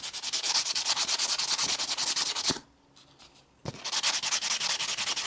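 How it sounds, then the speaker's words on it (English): Sandpaper scrubbing rust off an outdoor solar light, a loud, close, rapid back-and-forth rasping that pauses for about a second and then resumes at the same pace. "Go ahead and sand off that rust."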